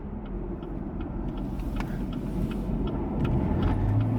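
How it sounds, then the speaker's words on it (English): A 2020 Camaro SS convertible rolls through a turn and brakes, a low steady engine and road rumble heard from inside the car, with a faint rising tone near the end. "we're gonna make a turn here, and at the same time, we'll test the brakes"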